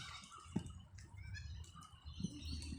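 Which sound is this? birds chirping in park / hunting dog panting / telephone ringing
birds chirping in park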